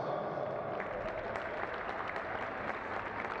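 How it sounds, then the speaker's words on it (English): Spectators at a youth football final applaud the referee, a steady wash of clapping from a crowd heard at a distance, even and unbroken throughout. "So a big round of applause for the referee, Jack Prescott."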